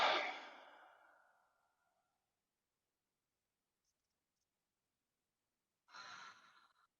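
Two slow, soft exhalations during a body rotation exercise, close and breathy, the first long and fading over about two seconds, the second starting after a quiet pause.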